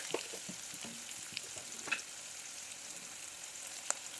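Onion pieces frying in oil with salt and turmeric for a potato and gram flour tomato curry, a soft steady sizzle with light stirring clicks and a couple of small taps.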